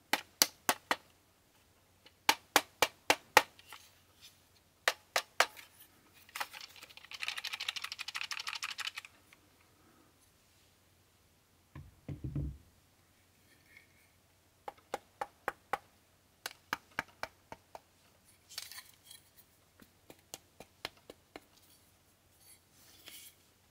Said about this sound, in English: If we give the joysticks a tap, you can hear how much more solid the Ultimate sounds overall.